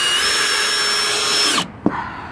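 A power drill runs steadily at high speed while boring into a 350Z during a side skirt install, then cuts off abruptly and gives one brief final burst.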